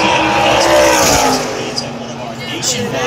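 A NASCAR race car at Daytona International Speedway roars loudly and steadily, its engine note sweeping as it passes close by, with crowd noise in the background.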